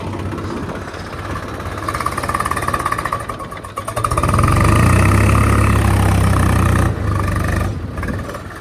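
A Swaraj 855 tractor engine chugs at idle, then revs up louder midway into a deep, steady throbbing drone before easing slightly near the end, with no talk over it.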